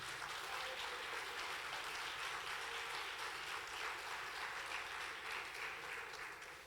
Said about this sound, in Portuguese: Você pode dar uma salva de palmas que eu terminei o estudo?